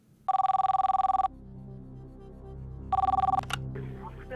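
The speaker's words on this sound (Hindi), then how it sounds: "फोन लगाया जाए इन्हें" Telephone ringing on an outgoing call to a quiz show winner, two bursts of a rapid electronic trill separated by a pause, with a low hum and studio sounds between them.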